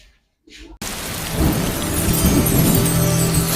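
Heavy rain pours steadily with deep rolling thunder underneath, starting abruptly after a short near-silent lead-in and building into a dense, continuous wash.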